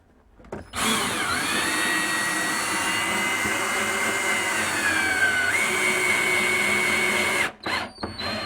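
A power drill drives 3-inch screws through a cabinet into wall studs, a loud steady whine with shifting pitch that runs for about seven seconds before stopping and briefly restarting, with no talking.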